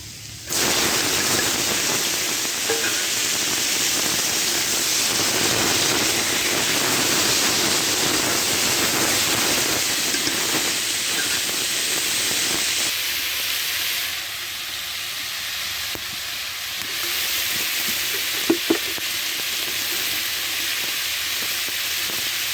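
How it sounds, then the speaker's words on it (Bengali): Pot of water at a steady boil for half-cooking bitter gourd, a continuous loud hiss and rumbling bubble that runs throughout, easing slightly partway through, with faint clinks near the end and no talk. "এই যে জল ধরে গেছি হাফ সিদ্ধ করে এগুলো দিয়ে দেবো"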